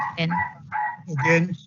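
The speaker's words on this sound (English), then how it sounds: "I think we have some barking dogs in the background there." A dog barks in the background of an online council meeting, sounding in three short bursts with a whine-like, tonal quality. A voice speaks between the barks.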